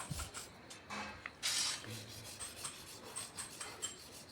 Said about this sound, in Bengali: এইখানে আমরা পাল্লাগুলো প্রথমে ঘষে নিচ্ছি, ভালোভাবে ঘষে নিচ্ছি